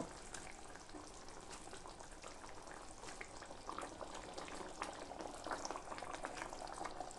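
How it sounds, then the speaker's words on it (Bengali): Curd-based fish gravy for doi katla, Bengali style, bubbles steadily in a pan, a dense continuous burble of popping and hissing that rises slightly toward the end, close and alone with no voices. "ঝোল ফুটে উঠেছে"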